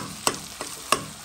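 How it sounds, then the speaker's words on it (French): A utensil stirs liver pâté with spices in a frying pan for rougail, three distinct scraping knocks against the pan over a soft steady sizzle. "je vais tourner les pâtés avec ces épices."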